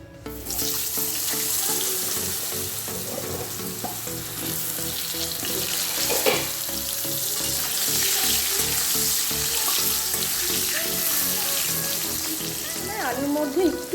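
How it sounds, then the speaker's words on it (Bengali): Washed potatoes drop into hot oil in a pan after fish has been fried, sizzling steadily with a continuous crackling hiss and occasional louder spits and stirring clinks, close by, with no talk. "এবার যে আলুগুলো ধুয়ে রেখেছিলাম এই আলুগুলোকে একটা একটা করে ভাজতে দিয়ে দেবো"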